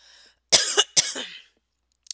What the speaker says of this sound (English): Coughing a little bit now.